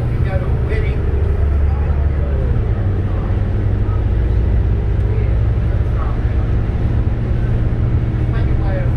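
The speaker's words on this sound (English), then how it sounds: "A Volvo B7RLE with a P&D Coachworks body." A Volvo B7RLE bus with a P&D Coachworks body idles with a loud, steady low engine drone, with faint voices in the background on a wet day.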